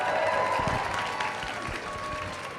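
Audience at a cosplay cup competition during a gaming expo applauds and cheers for a contestant, a dense, steady wash of clapping with crowd noise that tapers slightly toward the end.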